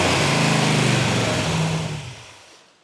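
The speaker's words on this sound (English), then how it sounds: "The engine runs absolutely fantastic. I like the Mother Thumper because it is a thumping cam." A car engine fitted with a lumpy 'Mother Thumper' thumping cam revs with a loud, throbbing burble, then winds down and fades away over a few seconds.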